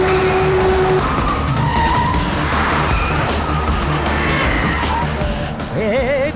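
A car skids with squealing tyres while being driven recklessly through traffic, the loud engine and screeching rubber running continuously over several seconds, with brief horn-like tones and a yell near the end.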